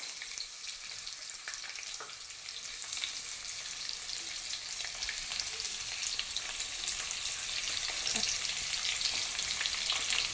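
Chopped onions fry in hot oil in a pan for a mushroom roast, producing a continuous bright sizzle with light stirring scrapes that grows slightly louder over time, with no talking.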